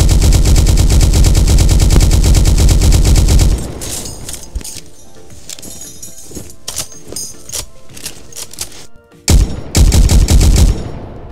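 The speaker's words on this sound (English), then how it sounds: "When you start clicking, your gun will fire." Rapid automatic gunfire from a tank in a Roblox game, a dense continuous rattle for several seconds. A quieter stretch of scattered shots and clanks follows, then the loud burst resumes.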